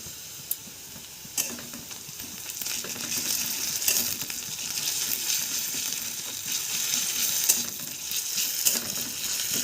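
Garlic paste going into a pan of lightly fried onions for a Bengali chicken curry, giving a steady close sizzle with a few sharp clinks and scrapes of a utensil against the pan.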